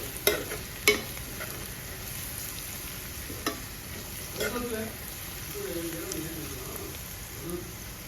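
Egg fry cooking in a pan with coriander and cumin powders, soft sizzling under a few sharp clinks and scrapes of a spoon against the pan, with light stirring noises toward the end.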